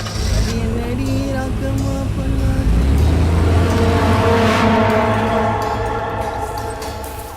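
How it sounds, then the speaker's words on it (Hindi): A car pulls out of a garage, its engine a steady loud rumble with rising harmonic tones as it accelerates, a brief swell in the middle before easing off. "गाड़ी गैरेज से निकल गई है।"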